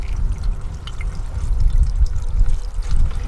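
A small, steady trickle of water runs through a Sluice Goose gold sluice at low flow, a soft continuous wash and dribble heard close and alone.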